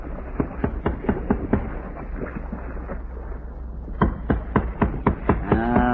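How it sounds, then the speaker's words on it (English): Sharp metallic taps ring out in irregular clusters, struck by hand on metal as a signal inside a vessel beneath the ocean, fairly close over a low steady rumble. "let's try our own tapping again"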